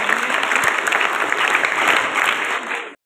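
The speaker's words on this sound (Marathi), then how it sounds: "यांच्यासाठी जोरदार टाळ्या वाजवत" A hall full of students and staff claps loudly at a school event at a secondary school in Dhamari, Shirur, Pune, giving a dense, continuous round of applause that cuts off sharply at the end.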